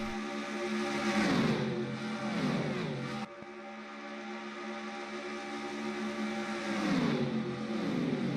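Stock cars in a racing video game roar past on a large oval, engine notes rising and falling as cars close in and pull away, one sweep cutting off abruptly before another approaches, no talk.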